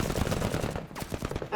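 A weapon firing at a heavy armored unit in the MENACE video game, a quick run of fairly faint sharp shots and impacts packed closely together over about a second and a half.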